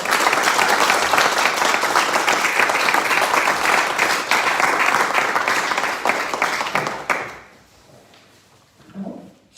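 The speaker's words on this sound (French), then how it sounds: "on peut les applaudir" Applause at a French municipal council meeting as new deputy mayors are congratulated, a dense, loud burst of many hands clapping for about seven seconds before stopping abruptly, followed by faint room noise.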